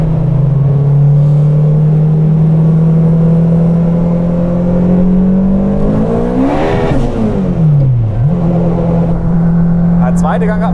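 An 800 hp front-wheel-drive Honda Integra Turbo running on E85 pulls hard from inside the cabin. Its loud engine drone climbs steadily in pitch, drops sharply at a gear change, then pulls again while people talk over it.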